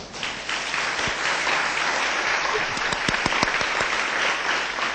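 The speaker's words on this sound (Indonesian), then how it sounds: "Yang percaya tepuk tangan untuk Tuhan." A church congregation claps steadily and enthusiastically during a Sunday evening service, a dense wash of applause with a few louder individual claps standing out.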